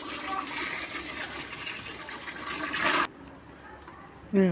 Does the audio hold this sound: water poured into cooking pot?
yes